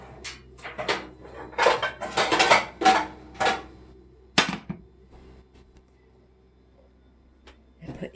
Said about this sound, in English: so let me get my skillet